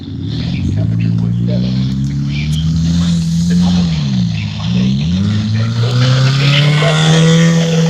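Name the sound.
loud cars passing on a street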